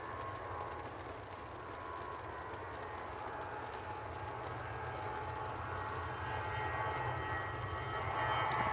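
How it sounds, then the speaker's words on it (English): Air France Airbus departing Manchester Airport, a distant steady jet rumble that slowly grows louder as the aircraft rolls toward takeoff. "I can hear a departure, so let's get down onto it. Sounds like an Airbus."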